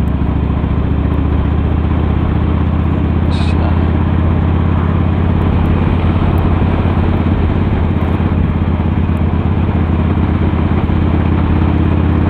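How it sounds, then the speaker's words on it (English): Motorcycle out on a ride on a sunny day, a steady loud engine drone with heavy wind rush, constant throughout with no pauses. "I'm just out for a little ride on the bike."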